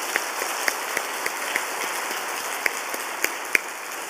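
A church congregation claps together in steady, dense applause, with a few sharper individual claps standing out against the even patter.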